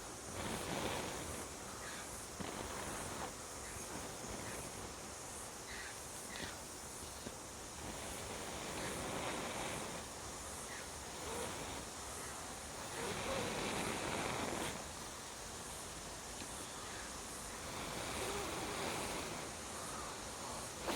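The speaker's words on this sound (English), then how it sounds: "Bit windy here." Steady wind buffets the microphone outdoors, a constant rushing roar with gusty swells rising and falling throughout.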